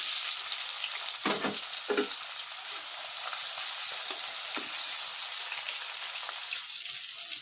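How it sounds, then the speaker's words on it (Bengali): Chopped onion frying in hot oil for a fish curry, a steady close sizzle with a few brief stirring knocks early on, no voices. "এখানে তেলটা গরম হয়ে গেলে পেঁয়াজ কুচিটা দিয়ে দেবো"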